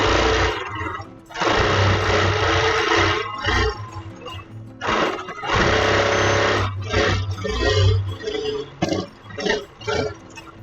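A home sewing machine stitching fabric napkins whirs loudly and close in repeated runs of several seconds, each separated by short pauses and soft clicks, with no speech.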